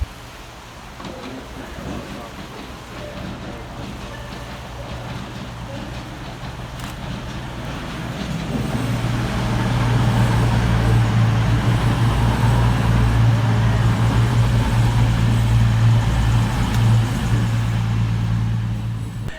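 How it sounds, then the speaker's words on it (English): Cross Country train 220028 rolls into Stockport station with a low, building diesel rumble that swells to a loud steady drone, its engine hum holding near the platform. "Arriving next into the station will be 220028, working the 1613 cross-country service from Manchester Piccadilly through to Bristol Temple Meads"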